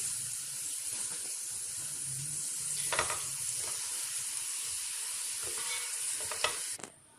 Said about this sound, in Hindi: उसी ऑयल के अंदर मैं ऐड कर रही हूँ लौंग और हरी इलायची। इसको हल्का सा मैंने फ्राई करना है